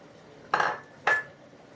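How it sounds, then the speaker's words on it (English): A metal spoon knocks twice against a pot while coriander is stirred into mutton chop curry, two sharp ringing clinks close by in an otherwise quiet kitchen. "Give that a bit of a stir"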